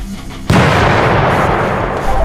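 A mortar fires during a crew drill: a single heavy, booming blast erupts suddenly and leaves a long, rumbling wash of sound that lingers after it.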